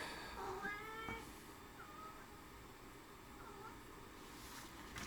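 A cat meows indoors, a couple of rising, wavering cries near the start, then a fainter meow a few seconds later against quiet room noise.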